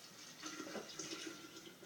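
Room-temperature water is poured into a jar for beet kvass, a quiet, steady trickle and splash close by, fairly faint and lasting the whole moment, with no speech.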